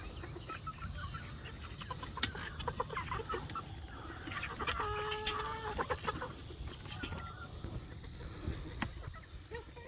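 Chickens on a farm clucking and squawking in a busy, overlapping flock, with scattered sharp calls and a brief crowing-like note around the middle, at moderate distance over a low outdoor background.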